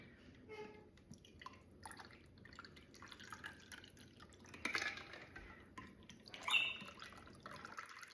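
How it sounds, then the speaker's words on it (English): Pomelo margarita poured into salt-rimmed glasses, a thin liquid trickle with soft drips and a light clink of glass, fairly quiet throughout. "I'm going to go ahead and pour my Pomelo Margarita into the glasses."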